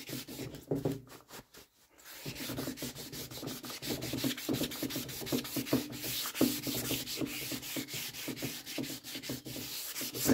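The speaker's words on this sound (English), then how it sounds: "Edges always sand quickly." Wet sanding along the edges of a car body panel during prep for 2K paint, a close rhythmic rubbing and scratching that runs almost continuously after a brief pause at the start.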